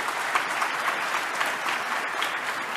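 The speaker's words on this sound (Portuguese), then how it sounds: "agradeço as palmas" Audience applause at a political debate, steady dense clapping from a crowd indoors, moderately loud and continuous throughout with no talk over it.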